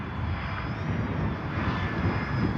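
A Kavan Pilatus PC-6 Porter RC plane flying in gusty wind, its engine a steady, fairly faint drone with slight swells in loudness and no voices.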